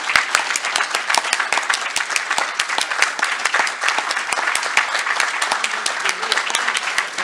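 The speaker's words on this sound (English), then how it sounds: "I just want to make sure that we give him a real big round of applause." Sustained applause from a Toledo Rotary meeting audience honoring Murph, many hands clapping densely and steadily at close range for several seconds, with faint voices mixed in.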